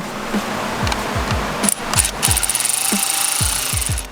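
Quick ratcheting clicks repeat in rapid bursts as a 10 mm fuel line clamp is tightened on a 2017 Subaru WRX STI during a fuel system upgrade, close and fairly loud.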